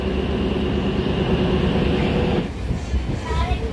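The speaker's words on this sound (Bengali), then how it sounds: "তো আমাদের ট্রেন ছাড়লো" A train leaving a station on the Siliguri to Cooch Behar route rumbles and rattles continuously close by, its steady mechanical noise shifting slightly toward the end.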